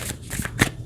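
Tarot cards being shuffled and drawn, a quick series of short papery riffles and slaps close by, heard alone.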